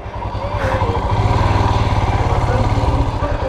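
A Royal Enfield Himalayan BS6 motorcycle thumps close by with a steady, loud single-cylinder pulse, idling and gently revving for a few seconds with no talking over it.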